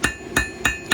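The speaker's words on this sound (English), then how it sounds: "Just brushing it around with the hammer, keeping everything moving so I don't get a flat spot on my scroll." Blacksmith's hammer blows on a hot high-carbon steel scroll being forged into an herb chopper, four sharp, evenly spaced ringing strikes, close and loud, with no voices.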